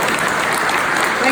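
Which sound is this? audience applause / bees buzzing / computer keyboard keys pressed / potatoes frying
audience applause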